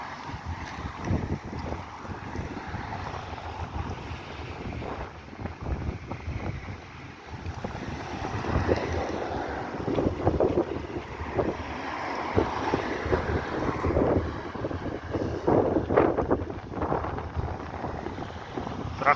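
Strong, unrelenting cool wind on Rudnev Street buffets and roars against the microphone in gusty surges, swelling louder toward the end, alone with no talk.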